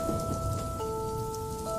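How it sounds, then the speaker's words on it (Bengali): Heavy rain pours steadily with a thunder-like rumble beneath, set against a rainy night in a Bengali cartoon; a sustained musical tone runs through the short stretch, with no speech. "আর দেখতে দেখতেই কিছু সময় পর থেকেই মুষলধারে বৃষ্টি শুরু"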